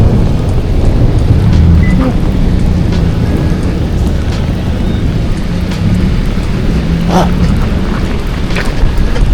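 Steady, heavy rain pours down in a dense, continuous hiss, with no voices and no pauses.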